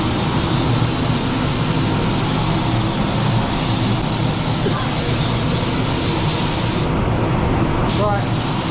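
Spray gun laying a wet coat of lacquer over freshly blended car paint, a loud continuous hiss with a rumble beneath that cuts out briefly near the end.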